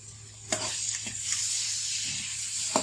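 Ginger garlic paste frying with softened onions and tomatoes in a pan for a South Indian potato curry, a soft continuous sizzle broken by a few sharp utensil scrapes, with no talking.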